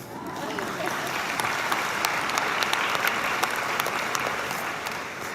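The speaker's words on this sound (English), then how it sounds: "They deserve a round of applause." Sustained audience applause at a graduation ceremony for the Elliott School of International Affairs at George Washington University, dense steady clapping from a large crowd filling the room without a break.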